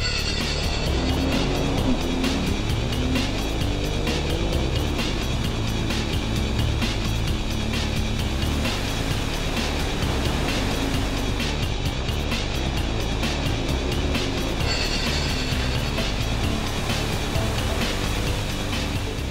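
A loud 2010 Sea-Doo RX-TX jet ski engine roars continuously, revving and droning at steady high power over a rushing, splashing wash as it speeds across water.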